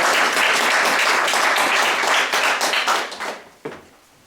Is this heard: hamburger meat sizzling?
no